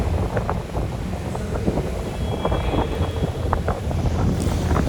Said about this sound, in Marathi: ही दुसरी ओपन स्पीड बोट आहे. तिथे सुपरच फास्ट पळते.